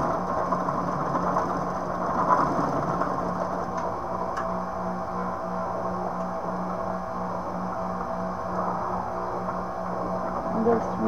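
Singer 281-1 industrial sewing machine stitching through 8 layers of material, a steady mechanical whir with a fast ticking needle rhythm that runs evenly for about eleven seconds.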